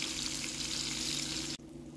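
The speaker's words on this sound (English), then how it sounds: "the tomato is in the frying pan and it's now frying" Tomatoes frying in a frying pan give a steady, close, dense sizzle that fills the clip, dropping slightly in level near the end, with no talking.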